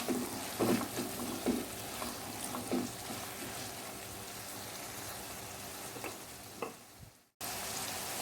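Radish and chana dal cook in a pan over medium heat, a soft steady sizzle broken by a few scraping stirs, with a brief dropout near the end and no talking.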